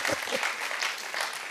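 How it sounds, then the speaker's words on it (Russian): A church congregation applauds in a short, dense burst of clapping that carries through to the end. A voice sits faintly underneath the clapping. "Хлопайте,"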